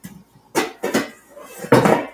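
A large saucepan being handled in a home kitchen, giving three distinct metallic clatters and knocks up close, with a quieter scrape between them and no talking.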